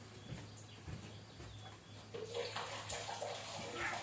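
Water runs steadily at low level with a faint continuous splashing hiss, growing a little stronger toward the end, with birds faintly audible in the background.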